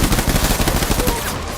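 Rapid automatic gunfire in the Death Stranding video game, a dense rattling burst of shots in quick succession that cuts off near the end.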